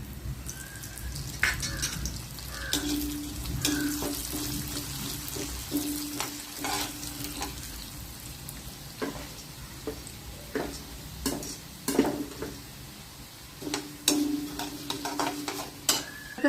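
Urad dal frying in hot oil in a pan, giving a continuous crackling sizzle with sharp pops and spatters scattered through it, close and fairly loud, with occasional stirring scrapes.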